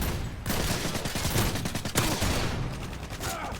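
Gunfire in the video game Modern Warfare 2 during a Ground War match, with dense rapid bursts of shots crackling loudly and continuously over the short span.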